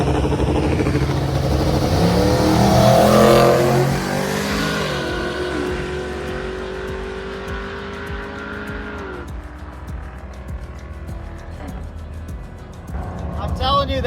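Old Chevy truck at a drag race, engine roaring loudly as it accelerates down the strip, pitch climbing then dropping off as it pulls away, with crowd and other vehicle noise around it.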